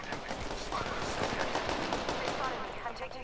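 Automatic weapon fire in the battle royale game Apex Legends, rapid loud bursts of shots and impacts packed densely through the moment, with players talking over the gunfire.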